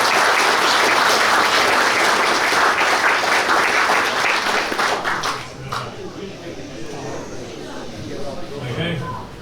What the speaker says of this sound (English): So I think a round of applause for our judges.